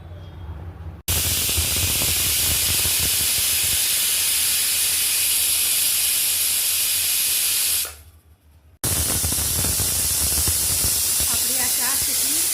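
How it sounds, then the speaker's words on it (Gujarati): A pressure cooker on the stove with vegetables inside lets off a loud, sustained steam hiss and whistle, cutting out briefly near the start and again later before resuming just as strongly. "આપણી આ 4 સીટી વાગી ગઈ"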